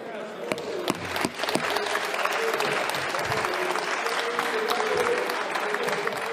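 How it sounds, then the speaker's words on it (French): Deputies in the French parliament applaud steadily in a dense, continuous wash of clapping that holds for several seconds, with a few sharper claps standing out early and voices murmuring underneath. "Ce sont les députés qui applaudissaient derrière."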